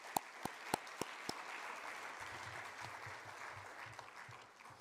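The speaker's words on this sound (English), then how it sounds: "Let's give them all a round of applause." At a keynote event, the audience applauds event sponsors, with a few loud, distinct close claps up front over a soft, sustained wash of hall-wide clapping that gradually fades.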